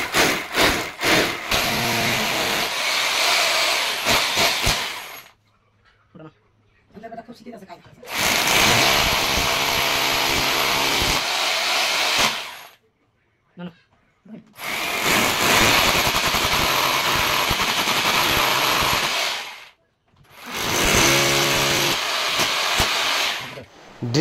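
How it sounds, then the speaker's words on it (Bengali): An electric drill bores holes into a wall for the hanging plate of a Voltas split AC. Four loud, steady bursts of drilling are separated by short pauses, with faint sounds in the gaps. "ড্রিল দিয়ে ছিদ্র করব।"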